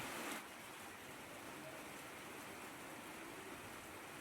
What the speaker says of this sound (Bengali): প্রচণ্ড বৃষ্টি হচ্ছিল